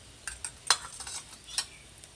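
Mustard and niger seeds sizzle in hot oil, with a few sharp crackling pops over a faint background hiss.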